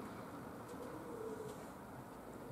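Pigeons arriving at an open loft with a low, soft cooing that sits under a steady background hum, faint and fairly distant.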